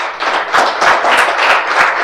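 Congregation applauding during a church sermon: steady, close rhythmic hand clapping from a group, sustained evenly throughout with no voices on top.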